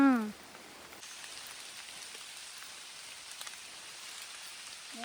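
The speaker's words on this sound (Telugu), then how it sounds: "ఎప్పటి నుంచి పడుతున్నాయమ్మా ఈ వర్షాలు?" Heavy rain falls steadily in Maredumilli forest, a constant hiss of drops with a few louder patters; a voice is heard briefly at the start.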